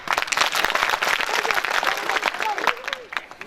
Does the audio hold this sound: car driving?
no